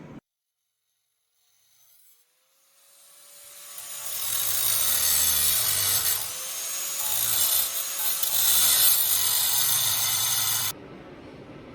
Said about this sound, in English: So I'm going to switch over to grinder